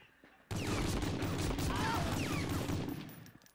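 Dense, sustained gunfire from an allied soldier in the World War II shooter game Medal of Honor Frontline, a loud continuous fusillade of overlapping shots with no talk over it, easing slightly toward the end.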